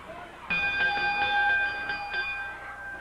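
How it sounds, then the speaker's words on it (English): A wrestling ring bell rings during a pro wrestling match, several quick metallic clangs with ringing tones over crowd noise, loud and close. "Referee says ring the bell."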